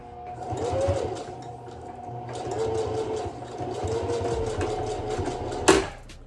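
A sewing machine stitching a flat hair closure unit gives a steady, close mechanical whir that rises and eases between runs, ending with a sharp click near the end, with no talking.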